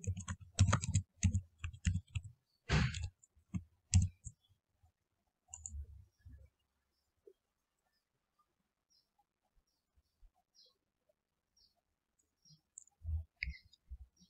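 Computer mouse clicks and keyboard typing while navigating the Figshare research data website, a dense burst of clicks early on, a few scattered clicks in a quiet stretch, then more near the end, with no talking.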